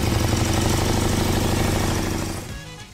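The engine of a 1934 Morgan 3 Wheeler runs at a loud, close, rapid mechanical chatter with exposed valve gear clattering, then fades out as it shuts down near the end.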